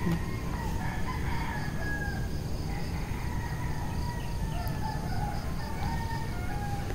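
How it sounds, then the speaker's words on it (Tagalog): Rooster crowing at a distance, a couple of drawn-out calls over steady insect chirping and a noisy outdoor background. "Naririnig nyo ba yung tilaok ng manok?"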